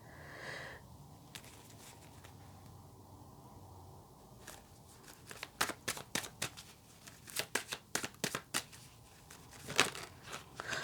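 Tarot cards shuffled by hand, starting with soft rustling and quiet handling, then building into a run of crisp riffling bursts and slaps, close and fairly quiet.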